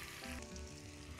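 Ginger and minced garlic crackle in oil in a wok, a short, soft, steady sizzle close by.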